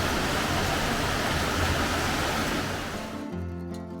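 Steady broadband rush of a river flowing beside an open-air sulphur hot spring bath at a mountain onsen, loud and continuous before cutting off sharply near the end into quieter room tone.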